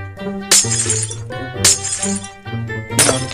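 Glass panes shatter three times in a parkour map video game, each loud crash ringing out over a tonal game music backdrop at roughly one-second intervals.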